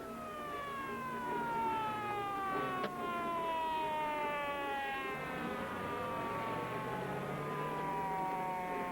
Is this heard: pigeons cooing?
no